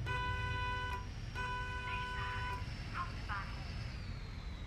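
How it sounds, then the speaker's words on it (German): A bus horn in a Bus Simulator game gives two steady electronic honks in quick succession over a low engine rumble, with a person talking faintly afterward. "Eine leise Hupe."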